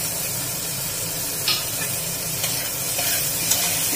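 Tomatoes and green chillies hit a hot pan of sautéed broccoli and potato, giving a steady loud sizzle with a few soft stirring clicks and no talking.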